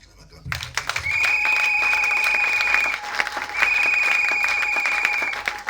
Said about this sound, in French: Est-ce que vous pouvez me l'acclamer?